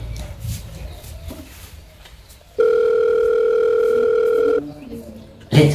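An outgoing phone call plays a steady ringback tone for about two seconds while the caller waits for pickup, with muffled room sounds and brief background noise before and after.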